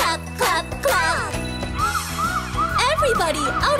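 Cartoon ambulance siren from a children's nursery-rhyme song, a rising and falling wail that sounds repeatedly over a bright musical backing with chimes, loud and continuous throughout.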